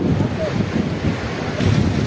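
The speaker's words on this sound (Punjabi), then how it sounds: "ਬਾਕੀ ਹਵਾ ਬਹੁਤ ਤੇਜ਼ ਚੱਲ ਰਹੀ ਆ" Strong gusting wind buffeting the microphone on a high mountain pass near Baralacha in Ladakh, a loud, continuous rumbling roar with no talk.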